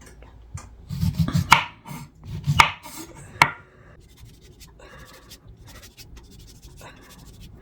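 A knife dices purple cabbage on a cutting board in a home kitchen, making several sharp chopping knocks in an uneven rhythm, close up, followed by softer scraping.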